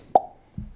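A voice imitates a popping sound with the mouth: a single sharp, close pop followed a moment later by a softer, duller second pop.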